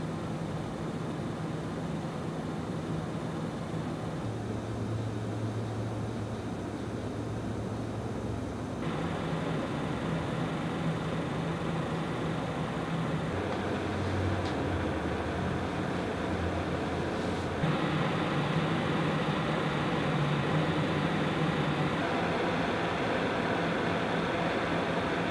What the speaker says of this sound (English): Here's a quick sound snippet of the two fans at selected RPMs.